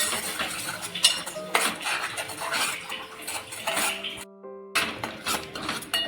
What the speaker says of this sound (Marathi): आता हे आपल्याला एक दोन तीन मिनटं छान असं परतून घ्यायचं आहे